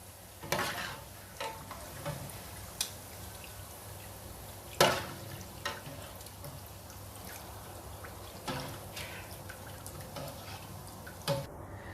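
Crispy fried onions are lifted out of hot oil with a strainer, a low continuous sizzle broken by a few sharp scraping clinks and drips, fairly quiet and close.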